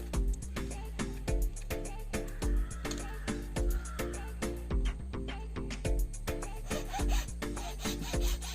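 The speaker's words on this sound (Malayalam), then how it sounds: "45 സെൻറ്റിമീറ്റർ നീളത്തിലാണ് നമ്മൾ ഈ പീസുകൾ കട്ട് ചെയ്ത് എടുക്കുന്നത്." A hand saw cuts areca palm wood into 45-centimetre pieces for a sofa seat, with rhythmic back-and-forth rasping strokes close by, steady and regular throughout, and no talking.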